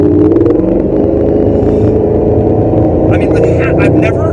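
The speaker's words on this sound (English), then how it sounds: "When I'm accelerating hard in this car, it feels very stable." A Mercedes SLR supercar accelerates hard, its engine a loud, steady, deep drone with layered harmonic tones throughout, and a voice speaks over it toward the end.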